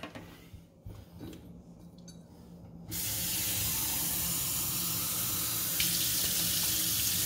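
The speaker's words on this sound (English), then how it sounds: "you wanna make sure your bowl is this way when you add in the water." Faint clatter, then water suddenly gushes from a tap into an Instant Pot's inner pot, a loud steady rushing stream that continues to the end.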